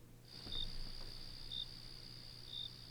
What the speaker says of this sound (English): Cricket noises.